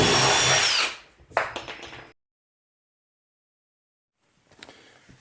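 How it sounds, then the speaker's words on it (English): A power drill whines loudly for about a second while boring the first hole into a container, then spins down with a few rattling clunks before silence and a faint later rustle. "Let's drill our first hole."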